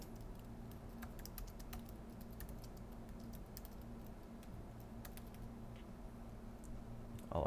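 Quiet rapid keystrokes on a computer keyboard as alt text is typed for an edited image, a soft irregular patter of taps over low room hum, no voices.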